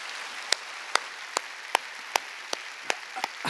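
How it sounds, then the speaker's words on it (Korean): A church congregation at a New Year's Eve worship service claps in steady unison, about nine sharp, evenly spaced claps over a faint hiss, with no talking. "하나님께 박수 칩시다."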